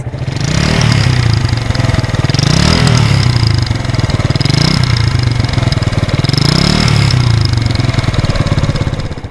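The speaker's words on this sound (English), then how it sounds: "it sounds very pleasant. And it is fairly quiet, at least in idle that is." A SYM Wolf Classic 125 cc motorbike engine idles steadily and close by, a continuous low throbbing putter that swells slightly every couple of seconds, with no voices over it.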